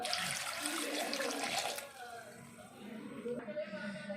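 Water being poured into a pressure cooker in a home kitchen while cooking jackfruit seeds, a splashing, gurgling pour that fades out midway, followed by quieter handling sounds.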